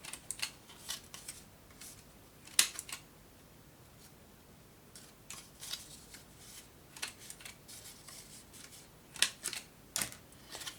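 Corners of decorative paper for a Christmas album are rounded with a corner punch, giving sharp, close clicks and snips scattered irregularly through the quiet, with no talking.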